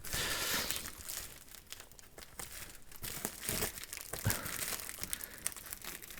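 Scissors snip and crinkle through thin material while building a Nepenthes enclosure, giving a steady series of close, crisp crunching and rustling sounds with several sharper cuts.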